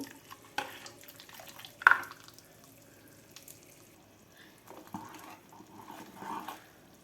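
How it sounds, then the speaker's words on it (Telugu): A cup of ghee simmering in a pan while Mysore pak is being made, heard as a faint low bubbling and hiss. Occasional soft clinks and a sharp utensil knock sit close by, with no talking. "ఒక కప్పు నెయ్యి పక్కన మరుగుతుంది"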